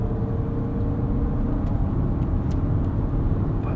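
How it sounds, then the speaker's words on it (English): Steady engine drone piped into the cabin of a 2024 Lexus TX 500h F Sport hybrid in sport mode, a loud continuous low rumble with road noise and no talk over it. "We'll get some piped in engine sound."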